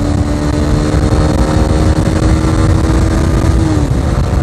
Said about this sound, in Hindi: अभी मैं तीसरे गेयर में हूँ अब मैं खींचता हूँ बाइक को